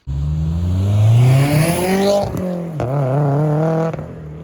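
A Subaru STI engine revs up loudly through an aftermarket exhaust, its pitch climbing and falling through a couple of throttle blips close by, then settling back down.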